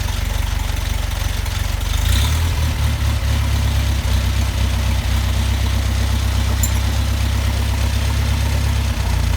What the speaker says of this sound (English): Considering how cold it is and how slow it is, it's idling really well.